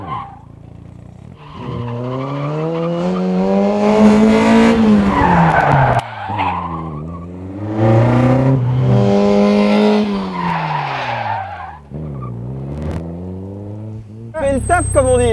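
Car on a gymkhana course, its engine revving hard in repeated rising and falling sweeps, with tires squealing from wheelspin, loud and close, as voices talk over it.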